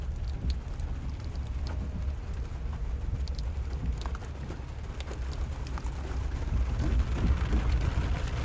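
Steady rain patters down outdoors, a dense, even hiss with scattered drops that swells slightly toward the end, no voices present.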